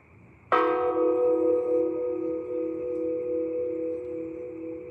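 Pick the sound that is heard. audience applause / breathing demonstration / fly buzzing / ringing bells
ringing bells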